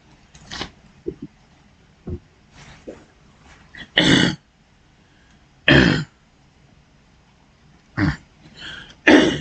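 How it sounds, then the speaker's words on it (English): Several harsh coughs and throat clearings spaced irregularly, close and fairly loud, with short quiet gaps and small sounds between them. "Excuse me for coughing"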